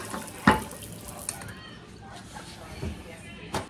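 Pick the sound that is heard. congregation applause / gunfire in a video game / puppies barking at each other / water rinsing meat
water rinsing meat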